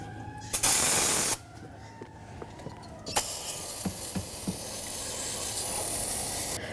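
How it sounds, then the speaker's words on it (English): Parts cleaner sprays onto a 1997-2004 Dodge Dakota engine block during a water pump replacement, heard as two loud hissing bursts: a short one early and a longer sustained spray after a pause with small clicks. "I'm going to spray some parts cleaner, get rid of all the excess dust and gasket material"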